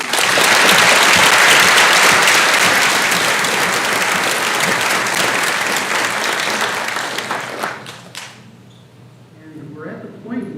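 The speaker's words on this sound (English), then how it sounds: "So if we could just acknowledge them with a round of applause." Audience at a pharmacy school white coat ceremony applauds faculty members, a loud, dense burst of clapping that holds steady for about eight seconds before thinning out into scattered claps.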